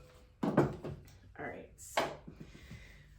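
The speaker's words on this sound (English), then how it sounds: "Then I always wipe my spatula off on my beaters." A spatula scrapes and taps against electric mixer beaters in a kitchen, several short knocking and rubbing sounds close by, interleaved with people talking.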